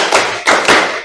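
Students in a classroom clap hands together in a counted pattern: loud, close group claps blending into a dense roar, with two sharper accented beats a quarter second apart.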